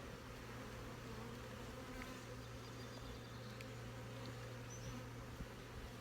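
Honey bees hum steadily around an opened spring hive, a dense continuous drone that stays even throughout with a low steady tone beneath it and no talk.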